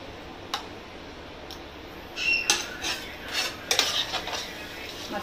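Mutton pieces with ground coriander, green chilli and coconut masala are stirred in oil in a pot; a spoon scrapes and clatters in short bursts over faint sizzling after a quiet start.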